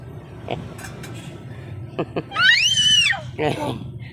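A hungry grandchild waiting to be fed at lunchtime lets out one loud, rising-and-falling scream, followed by a shorter whiny cry, with faint background noises and soft sounds before it.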